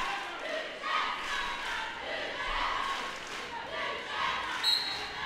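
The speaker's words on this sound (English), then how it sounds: "Big cheers coming in from the crowd for both teams as Dixie and Iron Duck line up against each" Crowd at a roller derby game between London Brawling and Nantes cheering and shouting for both teams, a steady swelling roar of voices with bursts of whoops, moderately loud throughout.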